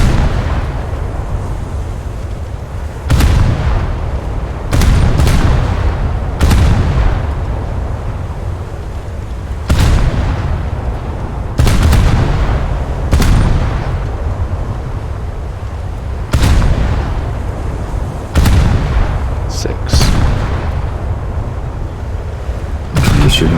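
Naval guns firing at a target in a ship battle game, a series of heavy booming shots at irregular intervals, about a dozen blasts over a constant rumbling background, loud and close.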